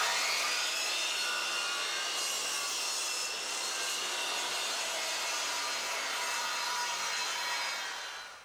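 A Triton Workcentre circular saw makes a bevel cut through wood, a loud, steady, close whining rasp that holds for about eight seconds and then fades as the blade winds down.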